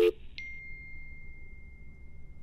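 A phone's call-waiting signal from an incoming second call sounds as a short electronic ding, then a thin sustained tone that fades over about a second, alone against low line hiss.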